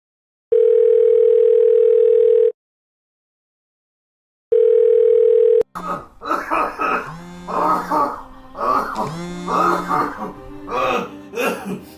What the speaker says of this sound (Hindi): मैं उसके नंबर पे कॉल लगा लेता हूँ